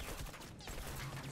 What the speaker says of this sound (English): Today we're going to try out the burst rifle.